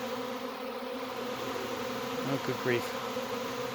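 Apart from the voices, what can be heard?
honey bee swarm buzzing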